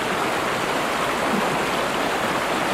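Rapids on the Vizla river in Latvia, where water rushes over a small stepped fall in a steady, dense roar that holds close and even throughout, with no voices.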